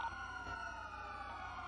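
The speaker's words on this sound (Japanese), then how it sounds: "パトカーも行ってます" A police car siren wails in the GTA video game, a steady high electronic tone holding through the short moment with no talk over it.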